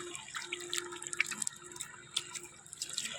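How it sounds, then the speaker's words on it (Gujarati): Cold tap water runs over hands being washed at a village outdoor tap, with light splashing and irregular drips close by and no talking. "પાછા એક ફેરી હાથ ધોઈ નાખીએ."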